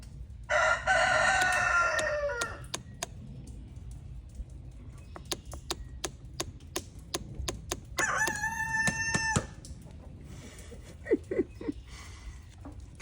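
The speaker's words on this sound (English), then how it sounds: "roosters, cock-a-doodle-doo" Two loud rooster crows ring out a few seconds apart, separated by scattered clicks and tapping sounds, with no voices.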